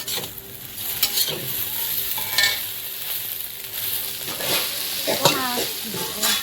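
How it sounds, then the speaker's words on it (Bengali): Egg chow mein noodles sizzle and hiss steadily in a hot pan while a utensil stirs and scrapes, with occasional sharper clinks; no talking. "সব মিশিয়ে একটু ভাজার পালা"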